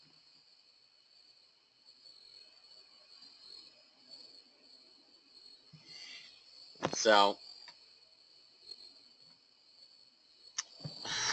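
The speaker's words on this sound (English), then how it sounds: "I'll actually hear crickets in the background" Continuous high-pitched cricket chirping in the background, with a few brief bursts of a voice and other short noises.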